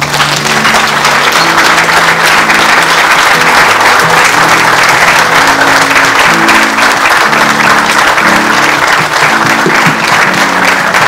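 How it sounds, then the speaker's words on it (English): A memorial gathering at a national theatre stands and claps for the late Kato, steady loud applause holding for over ten seconds while sustained singing or music tones run beneath the crowd. "we are going to stand up and take 1 minute on clapping to God for Anko Kato"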